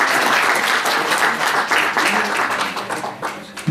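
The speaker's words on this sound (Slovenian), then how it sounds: "naš gost zasluži še en aplavz" An audience claps steadily for a guest speaker at an Alzheimer café gathering in a library, the applause dense and sustained, thinning slightly toward the end.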